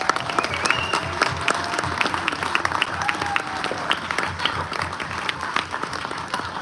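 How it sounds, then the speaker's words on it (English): A large audience gives sustained applause for US Air Force veterans and active military at a tribute aboard the cruise ship Odyssey of the Seas, with dense clapping and crowd noise filling the space throughout. "please stand up and receive your very well-deserved round of applause"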